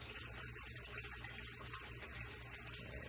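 A DIY moving bed pond filter tank fills with water in a steady, faint rushing trickle that continues without a break.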